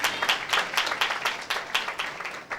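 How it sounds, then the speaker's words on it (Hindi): A church congregation gives a round of applause during a Prabhu Bhoj (communion) service, with moderate, steady clapping that pulses in soft waves and carries no speech. "चलिए जोरदार ताली आप अपने लिए दे सकते हैं।"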